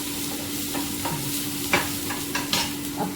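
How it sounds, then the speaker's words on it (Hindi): Onion with chopped red chili fries in a pan of greens, a steady close sizzle broken by several sharp scraping stirs. "इसी स्टेज पे हम डालेंगे थोड़ा सा प्याज। अब इसको हम भून लेते हैं।"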